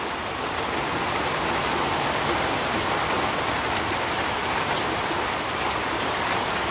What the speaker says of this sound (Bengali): কেমন বৃষ্টি গো ওই যে কমে গেল